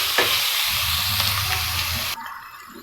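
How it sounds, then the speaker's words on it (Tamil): Chili powder and salt sautéing in a pan for Tamil chicken gravy: a loud, close, continuous sizzle and hiss with stirring, ending abruptly near the end, no voices. "இது எல்லாத்தையும் நம்ம நல்லா வதக்கிடலாம்."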